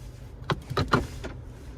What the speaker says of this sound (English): we can put all the windows down with the touch of a button